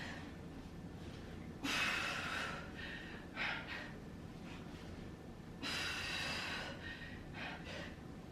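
Heavy breathing from someone straining through a full-body strength workout, with two loud, forceful exhalations close to the microphone, a shorter puff between them, and a steady low background hum.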